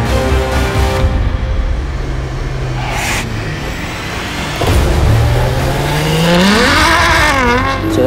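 Ferrari F12 Berlinetta accelerating hard down the pit straight of a test track, a loud close engine roar climbing through the revs with gear changes and a rising whine, no talk over it.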